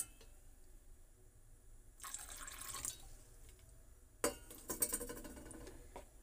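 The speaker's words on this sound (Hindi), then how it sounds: "अब इसमें थोड़ा पानी डालेंगे।" Water poured into thickened semolina dosa batter gives a brief splashy pour, then another burst of splashing and dripping, soft and close, with no talking.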